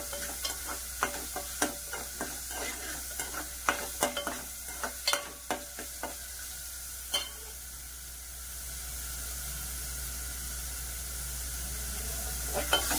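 Onion paste curry masala frying in a pan for a crab curry, with a spoon scraping and stirring in sharp, irregular clacks over a steady low sizzle, louder at the start and easing toward the end.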